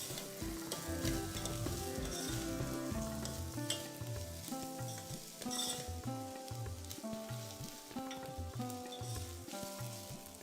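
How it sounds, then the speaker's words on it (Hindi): Onions frying in a pan with cardamom, cinnamon, whole red chillies and ginger-garlic paste, a steady loud sizzle with stirring scrapes throughout, with no talk, in a cookery show kitchen. "गुलाबी रंग होने तक हम प्याज को भून लेंगे।"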